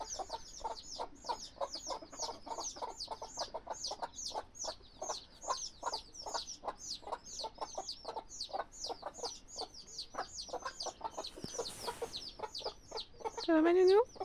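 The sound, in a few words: chicks chirping among hens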